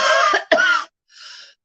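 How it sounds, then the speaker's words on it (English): A person coughs twice in quick succession, close and loud, then gives a shorter, softer cough after a brief pause. "Don't be alarmed at the coughing."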